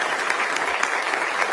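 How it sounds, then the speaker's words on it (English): At a press conference with the Florida governor and a sheriff, a crowd gives a brief, dense burst of applause that stays steady and fairly loud for its short length. "a round of applause."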